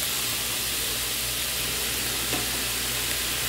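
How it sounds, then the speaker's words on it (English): Goulash meat and vegetables seasoned with salt, pepper, paprika, cumin and chili powder sizzle steadily in a pan, a constant close frying hiss with no talk. "I'm just going to continue to saute this for about 10 minutes till everything is soft and tender"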